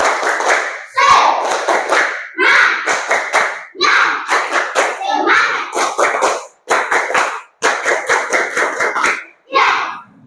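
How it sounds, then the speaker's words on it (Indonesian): A group of people, apparently a class or workshop gathering, performs a rhythmic spirit clap in repeated bursts of patterned claps with short pauses between sets, loud and close. "Nah, tepuk semangat dulu."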